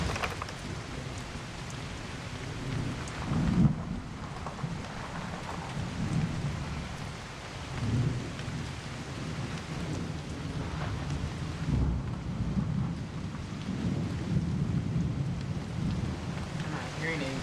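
A thunderstorm in the video game Season: A Letter to the Future, with steady rain hissing throughout and rolls of thunder rumbling at intervals, fairly close and continuous.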